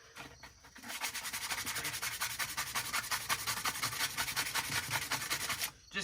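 Sandpaper rubbed by hand over a freshly painted mini bike frame, a rapid run of close, rhythmic scratchy strokes that goes on steadily and stops near the end.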